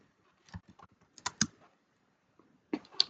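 Typing on a computer keyboard while entering text in Canva, with short bursts of close key clicks separated by brief pauses.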